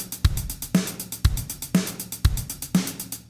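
A drum pattern alternates kick and snare while closed hi-hats tick rapidly, four to each kick or snare hit, making a busy, even sixteenth-note shimmer over the steady backbeat, with nothing else heard.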